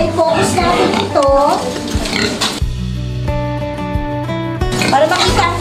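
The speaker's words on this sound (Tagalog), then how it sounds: "Ito mga baboy na ito." Pigs grunting on a farm, several short snorts and oinks coming in bursts at close range, interleaved with someone talking throughout.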